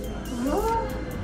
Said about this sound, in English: We love cats. There are so many cats here in Marrakesh.